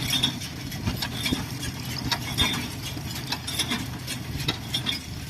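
Hay baler machine running in a field, a busy mechanical clatter of gears and ratcheting parts with rhythmic knocks over a low engine rumble, steady and close, no talk.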